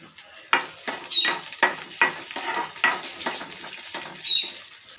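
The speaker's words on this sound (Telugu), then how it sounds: "అది కూడా కొన్ని వేసుకొని ఫ్రై చేద్దామండి" Garlic and small peeled onions frying in a pan, with a continuous sizzle and repeated scraping strokes of a spatula against the pan at an uneven rhythm, close and fairly loud.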